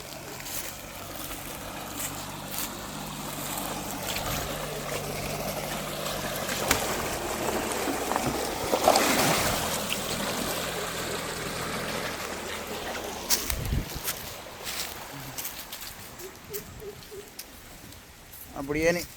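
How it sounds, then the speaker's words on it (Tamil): Water runs steadily through an irrigation channel in a village field, a continuous mid-level rushing wash heard under someone talking nearby. "இங்கால பாருங்க பேக்காலில் எப்படி தண்ணி வருதுன்னு பாருங்க."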